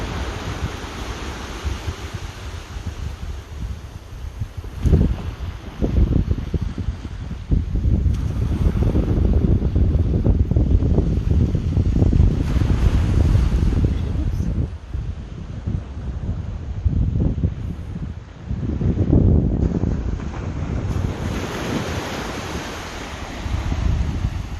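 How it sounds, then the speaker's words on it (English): Ocean surf and gusting wind on the Isle of Lewis shore, waves breaking and washing in with swelling and ebbing rumbles, mixed with buffeting wind noise on the microphone and no voices. "so this is the last of the waves"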